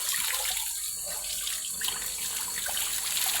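Water from a forest source pours and splashes continuously into a tank, a steady, close, fairly quiet rushing flow with no pauses.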